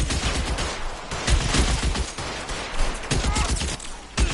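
Gunfire in the video game LA Noire Remastered crackles in rapid, continuous bursts of shots during a shootout, loud and sustained for several seconds.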